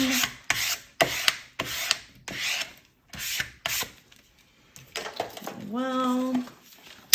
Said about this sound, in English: Burnish that down.